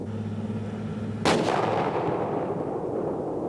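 An M1A1 Abrams tank fires its 120mm main gun: one sudden, heavy blast over a low engine hum, followed by a long rumbling roll that slowly fades.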